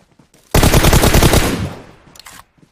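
A SCAR-L rifle in the video game PUBG fires a loud, rapid automatic burst lasting about a second, then trails off into fainter sounds.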